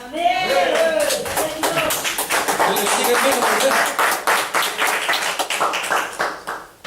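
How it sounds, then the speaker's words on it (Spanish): A church congregation applauds for the Lord and a visiting brother, steady clapping running throughout beneath someone speaking. "Denle un aplauso al Señor por nuestro hermano, amén."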